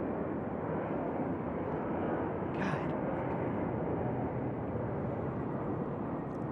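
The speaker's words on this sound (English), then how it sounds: "And just another plane." A plane passes overhead outdoors, a broad steady engine roar that fills the whole stretch at constant loudness, with a brief spoken exclamation partway through.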